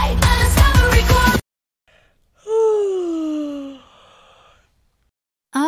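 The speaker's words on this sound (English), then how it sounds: "Uh-oh, did you just yawn too?" A single long, drawn-out yawn with a falling pitch, close and fairly loud, following a burst of upbeat music and then a short silence.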